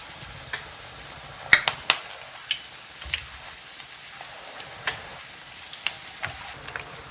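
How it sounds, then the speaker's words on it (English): Eggplant slices fry in a pan with a continuous hissing sizzle, broken by sharp crackles and pops scattered throughout, close and moderately loud with no talking. "it's time now to fry the eggplants"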